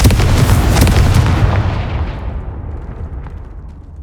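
Fire-spell explosion from the game Hogwarts Legacy: a loud, close blast that booms and crackles, then rumbles and fades out over several seconds.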